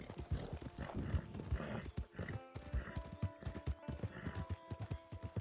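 Horse hooves clop in a steady trotting rhythm in an open-world video game, joined by a brief whinny, all at a moderate level with no clear talk over them.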